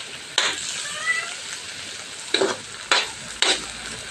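Ampalaya with egg sizzles faintly in a pan, broken by a few sharp scrapes and stirs of a utensil against the pan, close and spaced a second or so apart.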